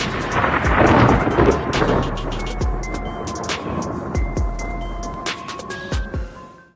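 Thunder from lightning strikes rolls and booms close and loud, a deep rumble at first, then several sharp cracking claps with rain hissing steadily underneath.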